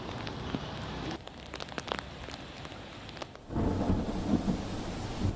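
Heavy rain pours steadily over an overflowing village lake in Karamsad, Anand district, with rumbles of thunder; the downpour grows louder and denser partway through, with no voices.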